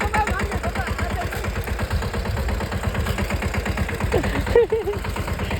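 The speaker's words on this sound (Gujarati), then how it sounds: "હાલો તો વિસલા ને આવડી ગયું ટ્રેક્ટર" A tractor engine runs nearby with a loud, rapid, rhythmic chugging that holds steady throughout, and faint voices occasionally come through under the engine.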